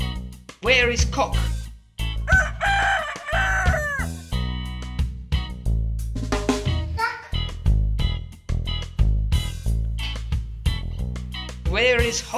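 A rooster crows amid playful background music and a voice, with a short crowing call early on and another near the end.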